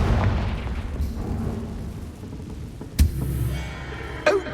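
A Confringo blasting spell in Hogwarts Legacy bursts in sharp booms, two distinct explosive cracks a little over a second apart over a low, rumbling game background.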